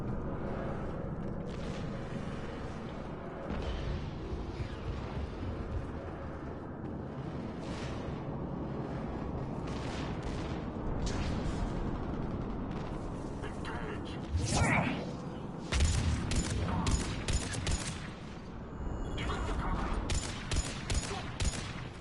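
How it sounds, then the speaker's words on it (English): Turret gunfire in the video game Mass Effect 3, rapid bursts of shots and impacts building toward the end over a busy background of game sounds and speech. "Set a turret down and then walked away. Used it as covering fire."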